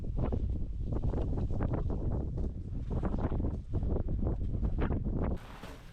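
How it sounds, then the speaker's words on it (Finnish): Strong wind gusting across open wilderness during a winter ski trek, loud buffeting roar battering the microphone in uneven surges, then dropping abruptly at the end. "Mutta hirviä tuuli."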